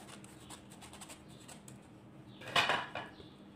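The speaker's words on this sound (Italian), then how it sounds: "E mescolate sempre bene il tutto." A utensil clinks and scrapes against a bowl while flour and leavening are stirred into carrot and almond cake batter; soft rustling gives way to a short louder burst of clatter near the end.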